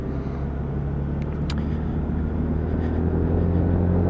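Steady engine drone with wind and road noise while riding a Lexmoto Pegasus 300cc Euro5 motorcycle on a dual carriageway, a continuous close rumble with no talking.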